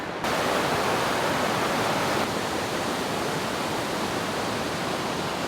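Gummy Falls in Barrington Tops National Park: a steady, loud waterfall roar, a broad continuous rush of falling water with no pauses and no voices.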